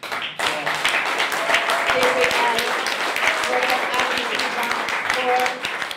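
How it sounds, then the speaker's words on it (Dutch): A crowd claps in sustained, dense applause that carries on for several seconds, with voices murmuring underneath. "lieve mensen, geef een geweldig applaus"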